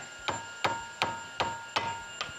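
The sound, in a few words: tapping drive shaft bolts with a hammer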